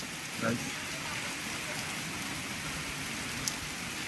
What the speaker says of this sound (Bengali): কি পরিমাণে বৃষ্টি হচ্ছে সেটা আপনারা ভিডিওর মাধ্যমে দেখতে পাচ্ছেন